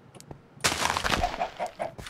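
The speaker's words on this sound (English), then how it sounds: "Oh, we got some chickens." Chickens in a video game cluck in a short run of rapid, close clucks after a brief quiet lead-in, with no talk over them.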